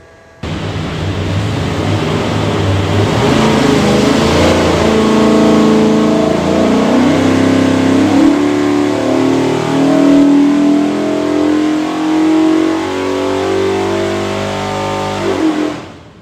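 Ford 427ci V8 on a dynamometer pull, a loud steady roar that climbs smoothly in pitch as the engine revs up through the run, then cuts off sharply near the end.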